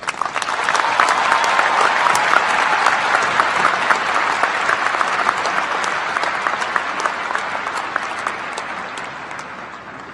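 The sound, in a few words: audience applause for a speaker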